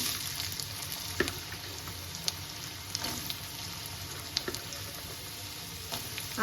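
Cut potatoes dropping into hot oil already seasoned with black cumin, giving a steady, close sizzle and crackle with a few sharper pops and stirring clicks throughout.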